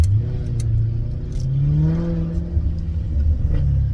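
Maserati GranTurismo S engine breathing through a Larini backbox exhaust with the centre resonator removed, a deep rumbling rev that rises and falls, loud and close with no talk.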